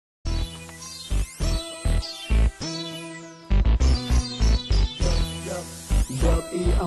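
Upbeat Somali hip-hop band music plays with punchy rhythmic hits, strong bass beats and layered melodic instruments, loud and continuous.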